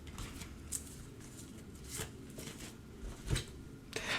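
Oracle cards being shuffled by hand, soft papery riffles and taps at low volume, close and alone without speech.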